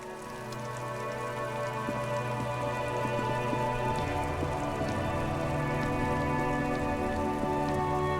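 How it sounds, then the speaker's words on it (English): Steady video game rain in Disco Elysium pattering on surfaces with scattered droplet ticks, building slightly and continuing evenly throughout, no voices. "It's raining again."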